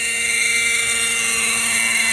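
A Kyosho Nexus 32 radio-controlled helicopter runs at an open field, its small engine giving a loud, steady, high-pitched whine that holds constant throughout.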